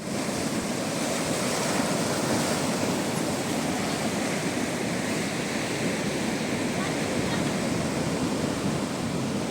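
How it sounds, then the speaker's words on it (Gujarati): Monsoon sea waves surge and crash continuously onto the shore at Diu, a loud, steady roar of surf with wind buffeting the microphone throughout. "ચોમાસાનો ટાઈમ છે ને એટલે આખર બહુ હોય છે તો એટલા મોજા મારે છે"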